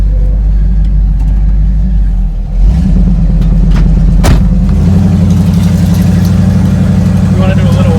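A car engine rumbles loudly and steadily for a burnout, revving up and holding a strong, droning tone from close by.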